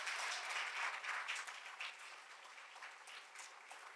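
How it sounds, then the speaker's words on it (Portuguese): A church congregation applauds during a worship service, a sustained, moderately distant patter of many hands with slight surges, gently tapering toward the end. "Você pode dar um aplauso ao Senhor Jesus?"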